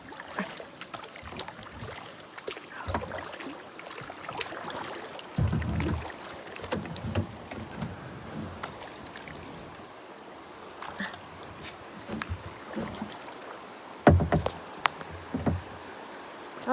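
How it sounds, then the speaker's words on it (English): Rushing river rapids on the Brule River, heard from a boat or canoe as a steady broadband wash of water with occasional splashes and knocks, fairly close and continuous throughout. "We got rapids."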